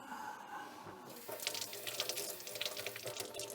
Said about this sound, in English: You tap the thing, the water comes on.